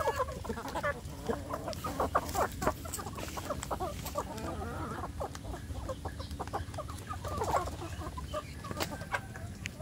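Free-range village hens (ayam kampung) clucking around their laying spot, a continuous busy chatter of overlapping clucks and calls, close to moderately near, no voices.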